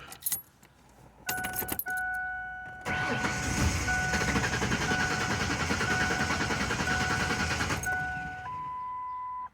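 A truck with a suspected bad fuel pump cranks for several seconds, its starter whirring in a steady, even rhythm that nearly catches. Brief jangling and clicks come before it, and a high steady tone runs through the cranking.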